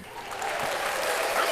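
Brief burst of applause from a podcast audience, a dense patter of clapping that swells slightly over a second and a half with no voices on top.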